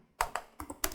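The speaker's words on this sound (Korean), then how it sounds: "3번 여기다가 3 엔터하고 금액 타이핑합니다." Four quick keystrokes clatter on a computer keyboard while accounting entries are typed, close-up and crisp, each tap a short sharp click in an uneven rhythm.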